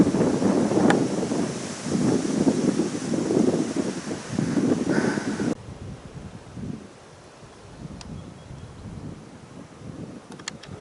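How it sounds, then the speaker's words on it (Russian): Strong storm wind gusts loudly against the microphone outdoors at a workshop building site, rushing in heavy bursts for about five seconds before dropping to a softer, steadier blow. "но дует сильный ветер."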